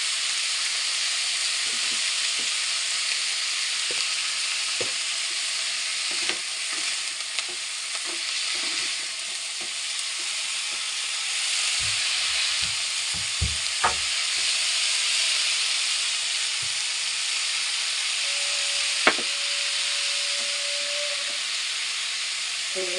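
Vegetables seasoned with turmeric and salt sizzle in a pan, giving an even, hissing fry sound with scattered soft clicks of a utensil stirring now and then.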